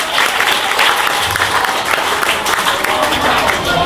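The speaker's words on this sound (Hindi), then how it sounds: "ज़ोरदार तालियों के साथ।" Loud, dense audience applause at a kavi sammelan and mushaira held in a school hall, a steady wash of many hands clapping throughout with no pause.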